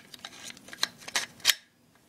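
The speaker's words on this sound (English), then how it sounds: "and then the bolt just slides into the gun" An AR-15 bolt carrier being slid into the upper receiver during assembly, giving a run of short metallic clicks and scrapes that end in one sharper click, followed by quiet.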